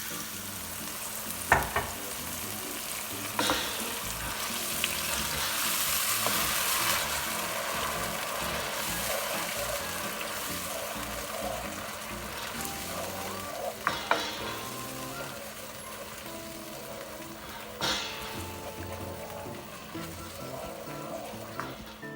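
Flounder sizzles and fries steadily in a pan as bechamel sauce is stirred in, with a continuous crackling hiss and occasional clinks of a utensil against the pan; no talking.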